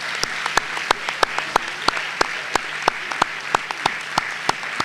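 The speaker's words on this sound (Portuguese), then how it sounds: "vos pedia também uma salva de palmas." Applause from an audience at an evening soirée in a parish auditorium, steady and moderately close, with individual sharp claps standing out over a continuous bed of clapping.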